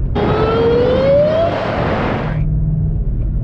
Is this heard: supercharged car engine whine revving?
yes